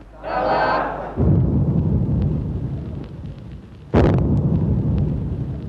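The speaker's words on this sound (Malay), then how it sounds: "Dengan seruan Daulat Tuanku, bunyi bedilan meriam, paluan nobat dan bacaan doa selamat" Two deep booming ceremonial cannon blasts at Malaysia's 1957 independence ceremony sound a few seconds apart, each followed by a long rumbling echo over a crowd.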